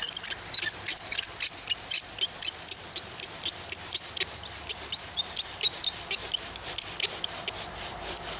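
A bow drill spindle grinds on a wooden fireboard in a rapid back-and-forth rhythm of raspy, squeaky friction strokes, close and steady, with no talking.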